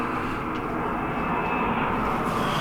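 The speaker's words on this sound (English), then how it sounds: "We got a lot of noise from the airplanes, commercial flights flying above us." Commercial jet airliners pass overhead above an old abandoned YMCA near a navy yard, producing a constant loud, deep roar that fills the air without a break.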